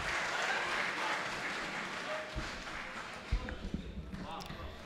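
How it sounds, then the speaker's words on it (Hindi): An audience at an international mushaira poetry gathering in Pune claps fairly softly, the applause thinning out toward the end as a voice and some nearby knocks and handling sounds come in. "इस्तकबाल कीजिए ज़ोरदार तालियों से"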